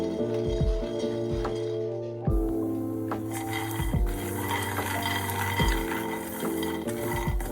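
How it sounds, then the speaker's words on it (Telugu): Peanuts stirred and fried in a pan with a spoon scraping and rattling, repeated metallic clinks and scrapes at an irregular rhythm, close and clear, without speech, made while preparing sugar-free dry fruit laddu. "పల్లీలను కూడా మంచిగా గోల్డెన్ కలర్ వచ్చేలాగా ఫ్రై చేసుకోవాలి."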